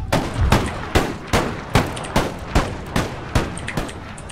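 Gatling guns fire in Empire: Total War, a battle strategy game, as a loud, close series of about ten sharp bursts at an even rhythm, each with a short rumbling tail, and no talking.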